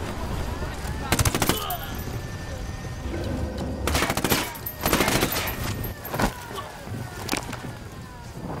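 Gunfire in a video game, bursts of automatic shots and scattered single cracks over a steady vehicle rumble, fairly close, with a siren-like tone in the background.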